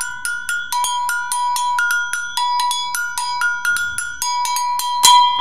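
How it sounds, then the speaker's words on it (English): An agogo double bell from African percussion struck in a steady rhythmic pattern, bright metallic clanks alternating between two pitches, close and loud with no talking. "An agogo bell, a double bell that originates in Africa called a gankaugi bell"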